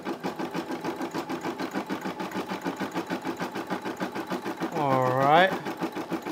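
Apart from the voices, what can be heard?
Brother SE600 embroidery machine stitching a football design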